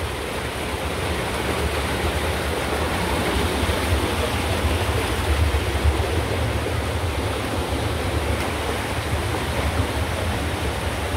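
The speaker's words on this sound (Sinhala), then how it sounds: "අර මැද බටෙන් පිට වෙන වතුර තමයි මේ මෙතනින් එන්නේ" Water pours out of a central pipe in a steady, full rush, with a constant near splash and no pauses.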